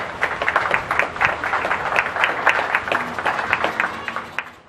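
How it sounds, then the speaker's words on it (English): Audience clapping steadily at a 4-H goat show at a county fair, a dense, sustained applause of many hands that tapers off near the end. "Congratulations, and a round of applause."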